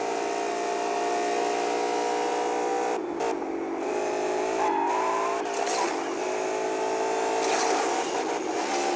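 BMW M6 engine racing in the game Asphalt 8, a loud sustained roar with rising and falling revs and brief gear-shift dips, continuous and close throughout, with no talk over it.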